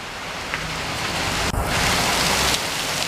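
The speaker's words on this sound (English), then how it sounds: "Now it's starting to rain." Steady rain falls outdoors in a dense, close hiss, with a brief knock partway through.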